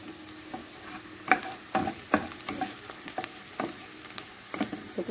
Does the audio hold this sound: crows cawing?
no